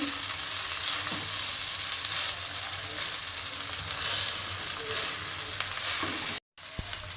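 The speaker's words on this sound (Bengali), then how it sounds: "এবারে ভাতটাকে আমি আলতো হাতে একটু ভাজা ভাজা করি" A steady, close sizzle of rice frying in a pan with faint stirring scrapes, continuous throughout before a brief cut near the end.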